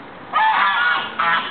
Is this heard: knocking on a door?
no